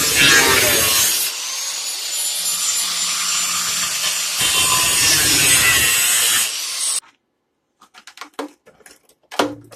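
Rusted sheet metal on a vehicle vent box being cut out with a power tool, a loud continuous grinding, rasping cut lasting several seconds, then stopping, followed by a few short scraping clatters of loose debris.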